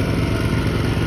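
A snow blower engine runs loud and close as it churns through about six inches of wet snow, a steady throbbing drone over the whole brief moment.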